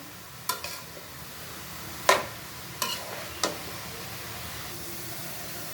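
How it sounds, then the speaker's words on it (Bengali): Cabbage is stirred and fried in a pan: a soft, even sizzle runs under a handful of sharp spoon scrapes and knocks that come in short bursts, and no one speaks. "দেখো পাতাকপিটা সুন্দর নেড়ে চেড়ে দিলাম"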